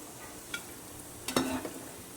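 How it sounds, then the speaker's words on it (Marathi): Crispy crab-style bhaji fritters frying in oil, a quiet, steady hiss punctuated by a couple of sharp spatula scrapes or clinks against the pan, heard close and without voices. "अशा प्रकारे सर्व भाजी छानपैकी तळून काढायचे म्हणजे हे टेस्टी लागतात"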